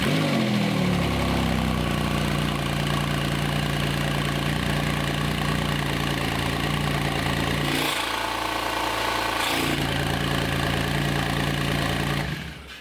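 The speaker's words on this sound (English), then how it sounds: "we'll go ahead and start this car so you can hear how this car sounds" A 2018 Porsche 911 GT2 RS with a 700 hp engine starts with a rising crank and settles into a loud, steady idle. It runs up close and unbroken for over ten seconds, with two brief dips in the low rumble, then cuts off at the end.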